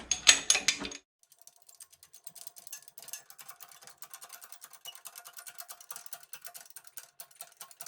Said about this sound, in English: I'm using a 3/8 bolt. Right? It's just smaller. You want either 3/8 or 8mm bolt will work. And I'm just going to press out the stem.